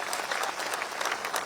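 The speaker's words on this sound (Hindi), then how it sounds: "जोरदार ताली बजा के इनका स्वागत करिए।" Audience at a political rally at Gandhi Maidan in Patna bursting into loud, dense applause, a continuous wash of clapping from a large crowd.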